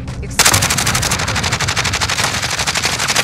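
Sustained rapid automatic gunfire in Call of Duty: Modern Warfare, a loud, dense burst that starts abruptly after a brief quiet moment and keeps firing in a fast, even rhythm, close and dominant throughout.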